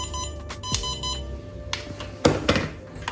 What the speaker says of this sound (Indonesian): Ini kalau RC-nya mati, lost connect. Ini remote-nya ada bunyinya.